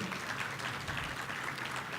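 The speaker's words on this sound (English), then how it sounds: "a round of applause for him" A forum audience gives a round of applause for a speaker coming on stage, a soft, even wash of clapping heard from a distance that holds steady throughout.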